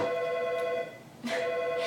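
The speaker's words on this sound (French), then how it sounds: "Téléphone!" A telephone rings indoors in two short bursts of bright, trilling bell tone separated by a brief pause, moderately faint and heard alone.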